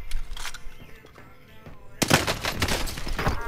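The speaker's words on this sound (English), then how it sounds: "I'm taking fire here." Gunfire in the Call of Duty battle royale map Rebirth Island: scattered shots early on, then a dense burst of rapid automatic fire in the second half, moderately loud amid game noise.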